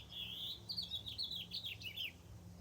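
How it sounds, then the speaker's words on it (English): Birds outside chirp in a quick, twittering string of high notes lasting a couple of seconds, heard faintly over a low indoor hum with no talking. "Dude, these birds are so loud."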